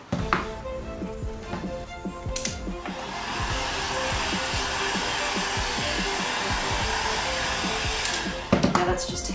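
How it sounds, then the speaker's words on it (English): A heat gun blows hot air onto the foam edges of a Deadpool belt buckle, a continuous close whoosh that holds steady throughout, broken by a few light taps and clicks near the start and end. "summer's horrible and there goes a heat gun"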